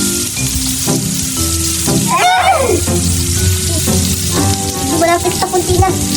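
Fishballs and hotdogs fry in a pan with a loud, steady sizzle and crackle, broken by scraping stirs and brief pops while music or background sound plays underneath.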